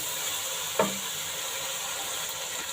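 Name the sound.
beef sizzling while being roasted in a pan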